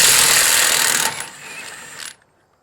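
A Milwaukee Fuel 3/4-inch 2864 impact wrench hammers lug nuts loose, a loud rapid rattling burst that drops to a lighter whir and then cuts off into silence.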